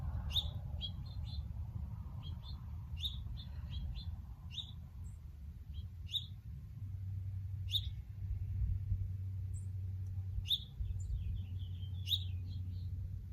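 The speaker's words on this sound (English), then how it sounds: "Some birds are coming in to help." Small birds chirp in short bursts of high, quick tweets, repeated every second or two at moderate distance over a quiet, low, steady drone.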